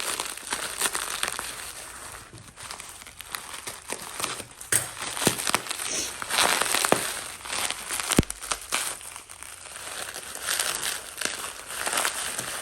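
A package sealed with packing tape is unwrapped, loud crinkling and crackling of wrapping material with sharp tearing snaps, close and continuous in irregular bursts.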